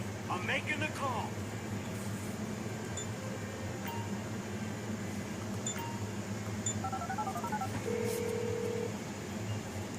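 A phone number is dialed in a video game played on an MSI GS60 Ghost laptop: short electronic keypad tones come in a quick sequence, then a longer held tone, over a constant fan-like hum and game noise.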